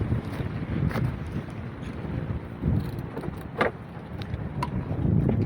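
Strong wind buffets the microphone in rough, rumbling gusts by the sea, with a few sharper knocks and rattles mixed in.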